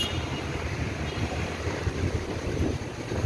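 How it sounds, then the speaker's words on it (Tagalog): Strong wind buffets the microphone in low, rumbling gusts, with a hollow roar of moving air throughout and no clear voices. "Lakas ng hangin."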